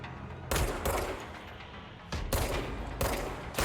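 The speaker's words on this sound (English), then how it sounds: "The pistol does some pretty decent damage, I gotta say." Pistol gunfire in the video game Control, with several loud sharp shots fired in irregular bursts, each one followed by a short ringing tail.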